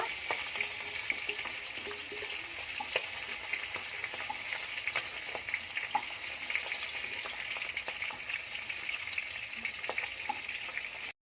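Pangasius fish frying in its own released oil in a pan with spices, a continuous close sizzle dotted with sharp crackles and pops, steady for over ten seconds before cutting off.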